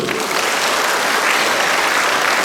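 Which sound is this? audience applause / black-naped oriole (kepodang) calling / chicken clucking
audience applause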